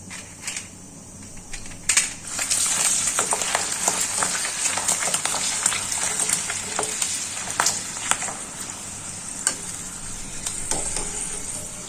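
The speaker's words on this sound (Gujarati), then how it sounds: "આપણે બધા જ ભૂંગરા છે તે વારાફરતી તેલમાં તળી લેશું" Bhungra snacks frying in hot oil, a steady close sizzle and bubbling crackle with occasional clatter from stirring, running continuously with no talk.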